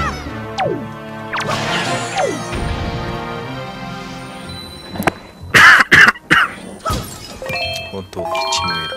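A man coughs several times in sharp, loud bursts near the middle, indoors while playing The Legend of Zelda: The Wind Waker. Game music and effects run underneath, and he talks before and after.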